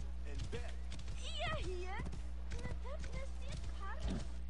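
Horse hooves clip-clop in Assassin's Creed Origins, a steady run of hoofbeats under a constant background hum, with game voices or other voices speaking over much of it.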